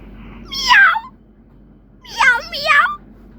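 A cat meows close by, one drawn-out meow followed after a pause by two more in quick succession, clear and loud over a quiet background.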